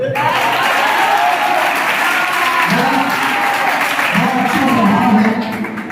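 An audience at a poetry gathering (kavi sammelan) at a Sanskrit college in Sanganer, Jaipur applauds loudly and continuously, a dense roar of clapping heard while a voice speaks over it, easing off at the end.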